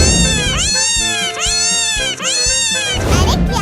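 Cartoon cat meowing loudly in a Hindi kids' cartoon about kittens, three long wailing meows in a row over background music, close and insistent.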